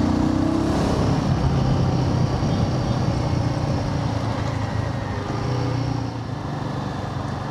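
A Royal Enfield Guerrilla 450 motorcycle engine runs loudly and continuously with elevated tappet noise, a steady close-up mechanical drone with no talking.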